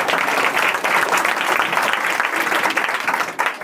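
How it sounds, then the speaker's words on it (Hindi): Audience at a Teacher's Day celebration in a coaching centre clapping for themselves, a dense, lively round of applause from many hands, steady and fairly close for several seconds. "तो एक बार अपने लिए ताली बजा दो"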